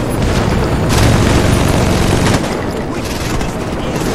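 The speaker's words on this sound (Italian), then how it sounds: "sparano veramente a tutte le direzioni" Dense video-game gunfire during a helicopter attack in Saints Row 2, loud sustained bursts of automatic shots and booms filling the clip, easing slightly toward the end.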